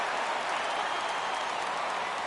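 A baseball stadium crowd applauds, a steady dense wash of clapping and cheering that fills the whole stretch evenly without breaks, broad and sustained.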